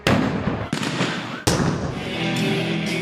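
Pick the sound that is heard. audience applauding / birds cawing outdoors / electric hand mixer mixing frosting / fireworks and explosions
fireworks and explosions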